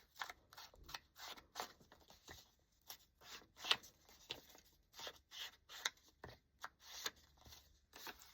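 Scissors trimming excess paper off a handmade craft tag, a steady series of close, crisp snips with short pauses between cuts, quiet and without talk.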